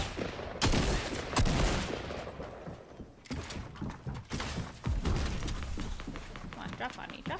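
Bursts of gunfire in a Fortnite match crack and rattle in dense, loud volleys, overlapping with in-game clatter and scattered noise for several seconds.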